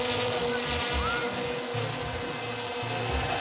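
An MF-35 Lightning prototype model aircraft, a student project, flies at about half throttle with a steady, continuous motor whine and airframe rush that stays fairly loud throughout, with no talk.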